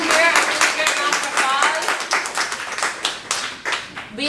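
An audience at a graduation celebration claps in a burst of applause, brisk irregular hand claps close by with voices speaking over the start.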